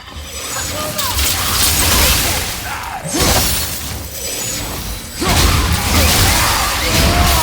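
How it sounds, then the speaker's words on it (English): Objects shattering in the video game God of War, with repeated loud crashes and bursts of breaking debris layered over game whooshes and mechanical sounds. "I will never get tired tired of shattering things with this."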